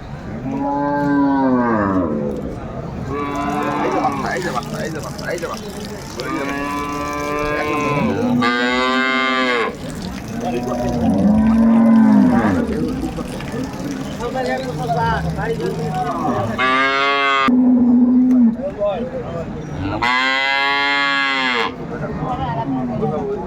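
Dairy cows and calves moo loudly and repeatedly at a cattle market in Dinajpur, long drawn-out calls overlapping with a busy crowd of voices talking in the background.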